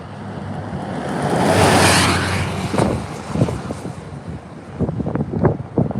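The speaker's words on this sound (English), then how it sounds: "The wind seems to be increasing southeast." Strong gusting wind roars across an open outdoor setting during a supercell storm near Clovis, New Mexico, building to a loud rushing peak then continuing with buffeting microphone noise and rumbling gusts.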